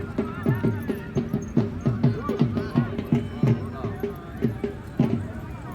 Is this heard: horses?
yes